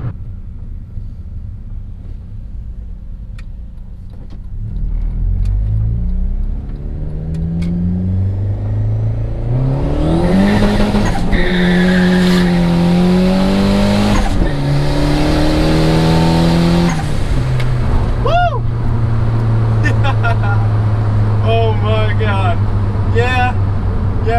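A turbocharged Honda Accord accelerates hard, its engine climbing through the revs in loud, rising sweeps, easing briefly at a gear change, then pulling again under a close, sustained roar.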